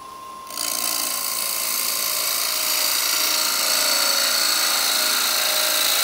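A gouge cuts into a spinning wooden bowl on a lathe, starting with a sudden onset and then holding a steady, loud, hissing whine that continues without a break.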